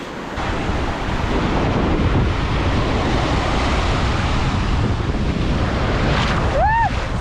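Steady roar of ocean surf washing onto a beach in Phuket, Thailand, continuous and loud with wind buffeting the microphone.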